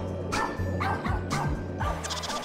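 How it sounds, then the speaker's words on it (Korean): A dog barks in a quick series of yips and bow-wows, loud and close, during an outdoor swim. "아, 강아지"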